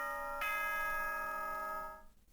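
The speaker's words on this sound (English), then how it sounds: "Ding dong, bing bong." A single Danganronpa-style announcement chime, a bright ding-dong tone that strikes once and rings on with sustained harmonics before fading out, heard alone without any talk.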